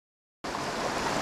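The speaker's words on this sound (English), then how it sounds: "to the end where there's a wee waterfall" A small waterfall on a narrow river cuts in abruptly, then pours as a steady, broad rushing wash at close range, with no voices over it.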